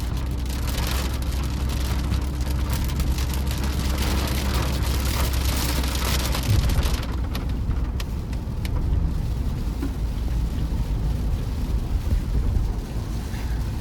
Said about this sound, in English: You wash the car, fucking it has to rain, of course.